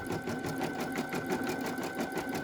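Embroidery machine stitching a red finishing border onto knit fabric for a baby bodysuit, a steady rapid mechanical whir and needle chatter running continuously at close range, with no talking.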